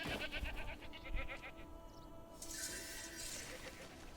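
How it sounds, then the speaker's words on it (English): Goats bleat in the rocky highlands of the video game Crimson Desert, a few soft cries heard at a distance over a steady game soundscape, with faint background noise and no clear speech. "Just some goats."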